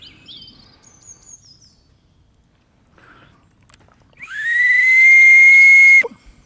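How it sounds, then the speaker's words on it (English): A handmade bark whistle, its bark slipped back over a carved sound chamber, blown in one long, loud, steady shrill note lasting nearly two seconds, preceded by faint higher chirps and quiet handling. "And then we have a whistle."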